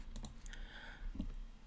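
Fingers type on a computer keyboard with a quick run of crisp key clicks, close up and unaccompanied by speech.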